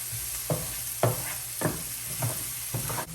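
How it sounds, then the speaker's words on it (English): Onion and garlic sautéing in butter for beef stroganoff, a soft continuous sizzle broken by about six scraping stirs of the pan at a regular pace, close and clear with no talk. "I'm just gonna saute my onion until it's translucent."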